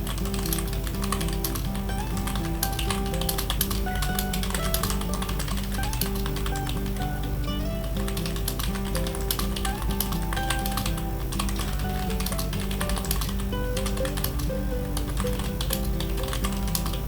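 Continuous typing on a computer keyboard while working in Microsoft Word, a dense, steady stream of key taps with background music running throughout, close and even in level.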